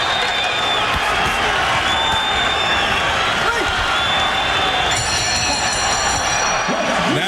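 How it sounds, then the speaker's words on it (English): Boxing arena crowd after a heavyweight bout, a dense continuous roar of cheering and applause filling the hall, with a commentator's voice over it. "The crowd gives a good standing ovation."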